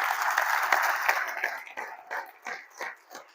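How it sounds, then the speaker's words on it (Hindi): A room of trainees at a social foundation training session in Kolhapur breaks into loud clapping that thins out into scattered, fading claps. "शुरू करना तो एक बार जोरदार तालियां होनी चाहिए।"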